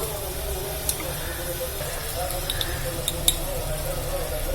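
Tomatoes seasoned with salt sauté in a pan, giving a steady low sizzle and hiss with a few light clinks of stirring throughout.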